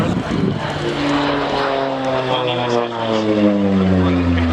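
A Bronco propeller aircraft at the Waddington 2014 air show roars loudly and steadily, its propeller drone shifting pitch as the plane passes.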